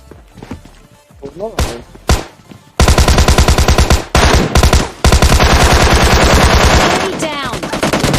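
MK gun fire in PUBG Mobile: a few scattered shots and footsteps, then long, loud, rapid automatic bursts with brief pauses, close and dominant, with some speech mixed in.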